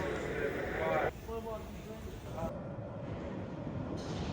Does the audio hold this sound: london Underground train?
yes